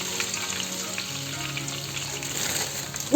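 Cornmeal toasting in melted butter in a pan gives off a steady, close, even sizzling hiss that holds throughout, with a brief louder bump at the very end.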